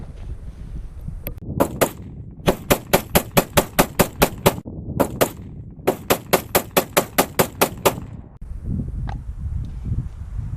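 Springfield XD-40 pistol fired in quick strings of sharp, loud shots, three rapid bursts of evenly spaced reports separated by brief pauses, with low outdoor rumble between them.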